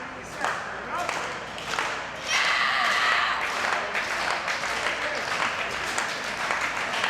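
Wrestling crowd at a women's extreme wrestling match, clapping and cheering in rhythmic bursts that swell into sustained applause, with a commentator talking over it.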